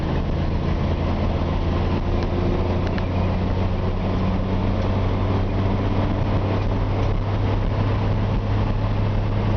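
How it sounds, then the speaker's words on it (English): Steady, loud low engine drone from a 1953 Ford F-100 pickup being driven, heard from inside the cab as one continuous, even rumble with no talking. "You can hear the engine runs great."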